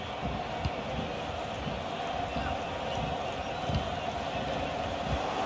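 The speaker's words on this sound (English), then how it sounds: "The crowd certainly think so. Just listen to them." Stadium crowd in the FIFA 22 video game during a match involving Borussia Dortmund: a steady, dense roar holds throughout, with soft low thuds scattered underneath.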